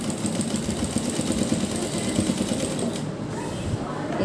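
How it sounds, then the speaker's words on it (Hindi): A sewing machine stitches along the edge of a garment neckline, running as one steady, continuous close whirr for the whole stretch. "हम इसके किनारे किनारे पर इसी शेप में सिलाई लगाते जाएंगे"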